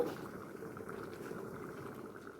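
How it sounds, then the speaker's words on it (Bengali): Raw jackfruit curry simmers in a pot with a soft, steady bubbling hiss that holds at an even, fairly faint level throughout, with no voices over it. "এঁচোড়টা এখনও ফুটছে, আরও কিছুক্ষণ ফুটবে"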